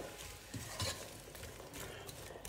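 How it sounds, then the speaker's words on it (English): Seasoned ingredients for spaghetti bolognese frying in a pan, a soft steady sizzle with occasional stirring clatter, fairly quiet and close. "I'm gonna let this fry up."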